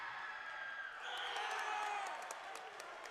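Crowd at a high school boys basketball tournament game between Mason and Princeton cheers and applauds, a steady mid-level roar that swells briefly, with whoops rising over it.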